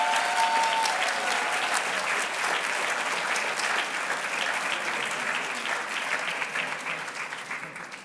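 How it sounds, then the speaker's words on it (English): Audience at an honors ceremony applauds awardees, dense sustained clapping from a sizeable crowd that gradually tapers off toward the end. "Let's give all the awardees a round of applause one more time."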